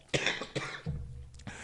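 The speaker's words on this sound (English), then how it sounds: "now my cough came back" Several harsh coughs from one person come in quick bursts, close and fairly loud, with a short pause and then a final cough.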